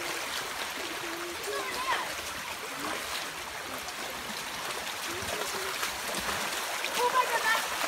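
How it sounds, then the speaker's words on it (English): Steady broadband rush of a waterfall at Kirrie Den fills the scene, a constant roar with faint splashing, while voices talk intermittently over it. "There's the waterfall."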